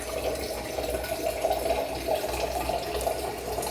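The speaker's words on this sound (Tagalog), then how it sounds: "mauna nagsalok na tayo tubig" Continuous running, splashing water, steady and close, like water being drawn or scooped without pause.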